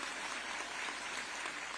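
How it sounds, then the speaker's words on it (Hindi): An audience applauds at a government appointment letter ceremony, a fairly faint, even wash of clapping that holds steady throughout. "आप सभी भरपूर तालियां मंच तक पहुंचाएं।"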